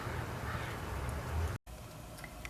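A crow caws a few times outdoors, heard at moderate distance over steady low wind or traffic rumble, with a brief dropout partway through.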